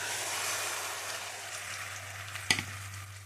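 Ground spices sizzle in hot oil in a pan for a duck curry, a steady close frying hiss with a low hum beneath and one sharp clack of a utensil near the end.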